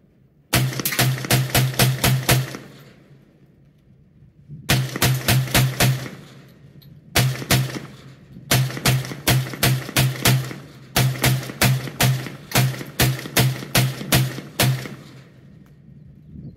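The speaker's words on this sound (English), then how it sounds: "This is the last of the 200 rounds through this test." An SKS rifle fed from an Archangel magazine fires loud, close shots in rapid strings of six to eight rounds, each burst separated by short pauses, outdoors.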